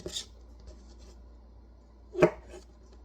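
A knife slicing mushrooms thin on a cutting board, two isolated crisp cuts a couple of seconds apart against a quiet background.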